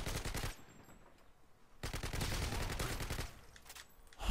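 Rapid automatic gunfire in the video game Modern Warfare 2, loud bursts of dense rattling shots at the start and through the middle and end, with a quieter gap between.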